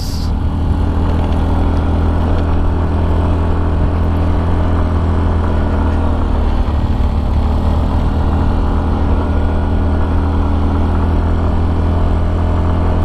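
A Yamaha Fazzio Hybrid scooter cruising at about 45 km/h, a continuous low engine drone with steady wind rush, unbroken and even for the whole stretch.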